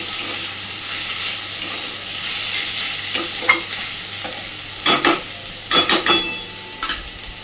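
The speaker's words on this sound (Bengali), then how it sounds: "মোটামুটি আরও মিনিট 2-3 এইভাবে ঘেটে ঘেটে নেড়ে নেড়ে ভেজে নেব" Snake gourd frying in a pan sizzles steadily while a spatula stirs it, with several sharp scraping strokes in a cluster near the end; close and fairly loud, no talking.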